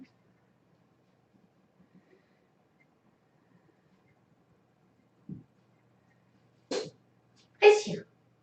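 A short sneeze bursts out after near silence, followed by another louder sneeze a moment later, close and sharp.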